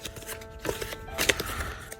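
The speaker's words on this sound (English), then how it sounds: "I'm going to shuffle the King of Spades in there somewhere" A deck of playing cards being shuffled at a tabletop while setting up a King of Spades card game, giving quick papery riffles and soft flicks, close and fairly quiet, with no talk.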